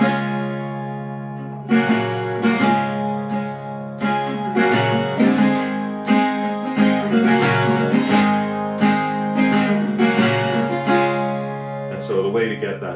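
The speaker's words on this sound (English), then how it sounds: "When you're playing a 12-string, you often want to play with a pick so that you pick up the jangliness of the strings" A 12-string guitar strummed with a pick rings out bright and jangly in a steady run of chords after a short quiet opening, close and clear, with no talking over it.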